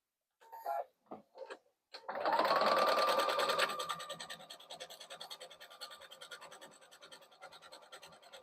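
A sewing machine stitches a tote bag lining to an outer piece with a quarter-inch seam across the top, a close steady whirring run that slows into rhythmic chugging stitches after a few handling taps.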